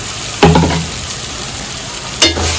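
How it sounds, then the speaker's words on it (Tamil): Boiled potatoes are sautéed lightly in oil with tomatoes for aloo chana dal sabji, a steady close sizzle with two clear bursts of stirring and scraping. "உருளைக்கிழங்க இந்த ஆயிலில் லைட்டாக வதக்கி எடுக்கலாம்"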